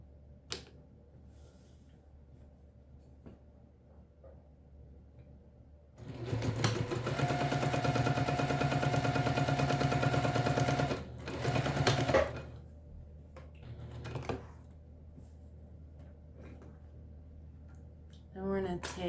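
A sewing machine top stitches waterproof canvas for a mini backpack, a loud steady mechanical hum lasting about six seconds, with quiet handling noises and clicks before and after.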